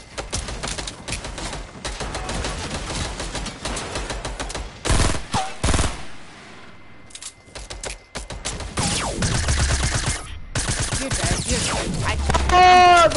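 Bursts of rapid gunfire from a Fortnite match come in dense repeated volleys with brief gaps, loud and close, mixed with game effects and building noises throughout.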